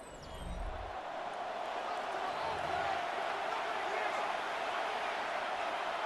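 Crowd noise from a Madden NFL 26 football video game, a steady broadband roar that swells slightly and holds loud and constant after a brief low thump at the start, with no clear speech over it.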